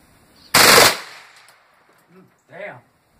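A single loud shotgun blast at clay targets on an outdoor firing line, sharp and close, with a short decaying tail, followed by brief voices.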